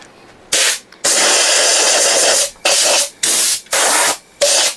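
Compressed air blasts dust out of the inside of a woodturned hollow form in several loud, close hissing bursts of uneven length separated by short pauses.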